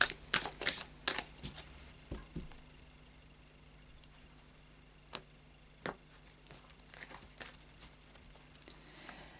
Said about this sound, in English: So a final shuffle of the Fairy Oracle cards by Brian Froud.